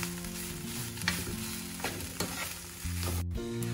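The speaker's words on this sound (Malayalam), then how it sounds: "ഇനി ഇത് ശരിക്കൊന്ന് വറുത്ത് കൊടുക്കാം." Grated coconut roasts with prawns in a pan, a steady dry sizzle broken by the scrape and clatter of stirring at close range, with no voices.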